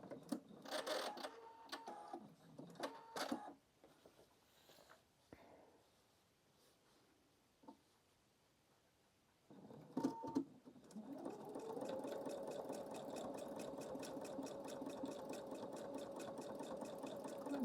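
A sewing machine stitches a fabric collage, its fast steady mechanical whir running continuously through the second half after earlier stop-start bursts and handling noises, with a quiet stretch in between.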